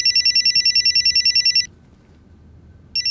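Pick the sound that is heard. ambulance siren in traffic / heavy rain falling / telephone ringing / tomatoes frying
telephone ringing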